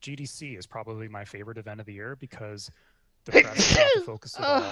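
A single loud, close sneeze bursts out after a stretch of conversational talk at a gaming-press discussion, followed quickly by more speech.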